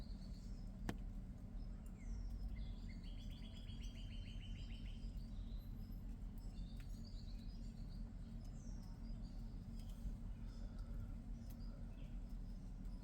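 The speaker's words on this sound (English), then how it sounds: "I can hear at least a dozen different bird calls" Many different birds call outdoors at once, with chirps, tweets and rapid trilled phrases scattered near and far over a steady low rumble of background noise, and no voices.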